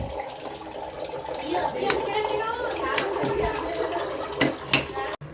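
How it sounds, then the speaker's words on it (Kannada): Water pours close by into a pot of biryani rice with a continuous splashing rush, ending in a few sharp clatters and knocks. "ಅದಾದಮೇಲೆ ಸ್ವಲ್ಪ ನೀರು ಹಾಕ್ಕೊಬೇಕು."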